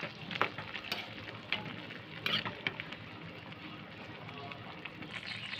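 A mixture of small kachki fish is set on the stove and sizzles with a steady, close hiss and occasional sharper crackles while someone talks over it.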